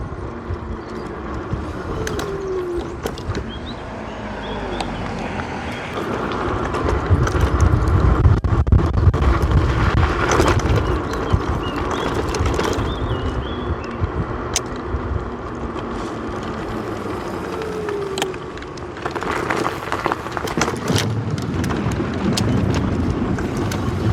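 A Kukirin M5 Pro electric scooter rolls very slowly over a dirt path, with a rough crunching of tyres on earth and gravel, a faint motor whine, wind buffeting and occasional clunks.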